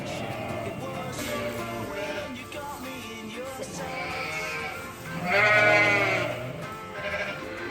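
Sheep bleat repeatedly during lambing, a loud, wavering cry swelling near the end over a steady farmyard background, with no talk.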